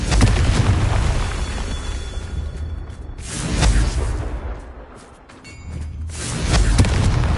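Repeated Confringo blasting-curse explosions in Hogwarts Legacy: several loud booming bursts a few seconds apart, each swelling and fading, with quieter gaps between.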